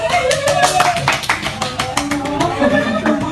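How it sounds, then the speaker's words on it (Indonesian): Classroom students clapping together, a loud, uneven run of sharp claps with voices mixed in. "Beri tepuk tangan"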